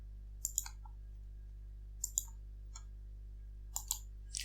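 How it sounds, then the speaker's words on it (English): Mouse clicks while running a transformer circuit simulation, sharp quiet ticks in close pairs repeating several times over a low steady hum, no voices. "So if I click on the run button"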